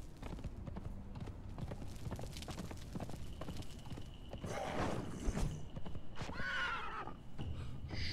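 In the Conan Exiles video game, a horse's hooves clip-clop steadily while it lets out a loud whinny, then a second shorter neigh, heard at fairly close range.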